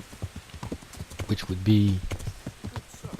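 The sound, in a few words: horse hooves clip-clopping in a video game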